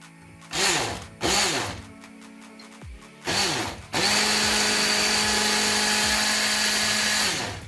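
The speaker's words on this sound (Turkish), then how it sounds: "Şekerimizle yumurtamızı şöyle yavaşça çırpıyorum." Electric hand mixer whisking eggs and sugar for a chocolate soufflé, starting in short bursts and then running in a steady continuous whir. Loud and close, with no talking over it.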